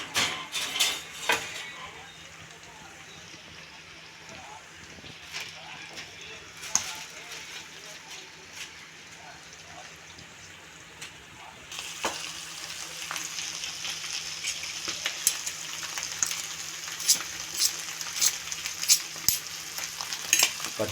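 Boti curry sizzles and fries steadily in a pan while a spoon scrapes and stirs, with clinks against the metal and a brighter, louder sizzle in the second half.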